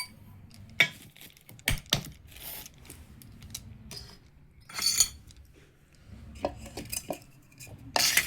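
Metal pots and utensils are handled and set down in a home kitchen, giving scattered clanks and clinks with loud bursts, one near the end, over a quiet background.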